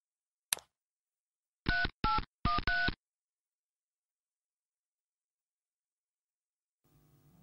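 Phone keypad tones: one short click, then four quick dialing beeps in a tight burst, clean against silence, with faint static near the end.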